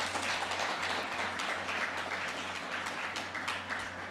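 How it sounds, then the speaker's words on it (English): Conference audience at a drone forum in Kathmandu applauds a speaker being invited to the stage, a steady wash of clapping at moderate volume with a low hum beneath it. "Please give him a round of applause."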